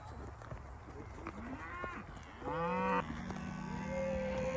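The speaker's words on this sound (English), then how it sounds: "Look, the cows are saying hi." Cows moo outdoors near a lake, several long, rising calls overlapping from middle distance over steady background noise, the last one louder and closer.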